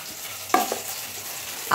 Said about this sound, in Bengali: আর এদিকে মাছ ভাজা হচ্ছে, একটা একটা করে মাছ ভাজছি